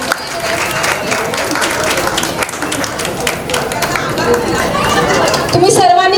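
An audience claps at a women's group program held for Ganeshotsav, and the applause swells steadily throughout amid crowd chatter.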